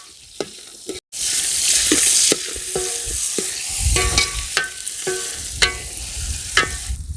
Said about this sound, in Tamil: அடுத்தா பார்த்தீங்கன்னா நறுக்கி வச்சுருக்க தக்காளி சேர்த்துக்க போகிறோங்க.